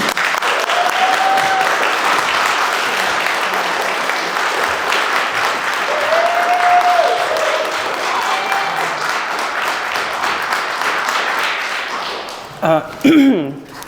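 Audience applause welcoming Dr. Jean O'Brien to a talk: a loud, steady wash of clapping from a full room lasting about twelve seconds, then fading as a voice begins speaking.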